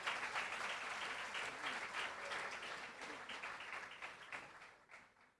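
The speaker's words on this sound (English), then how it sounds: "do deserve another round of applause" Sustained applause fills the hall at an awards ceremony honouring top performers, a dense wash of many hands clapping at steady volume before thinning out near the end.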